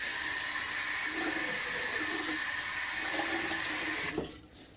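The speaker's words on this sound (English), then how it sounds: "More cold water." Cold tap water runs into a sink in a steady, soft hissing stream for rinsing after a shave, then cuts off near the end.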